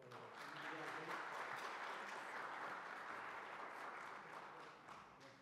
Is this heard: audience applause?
yes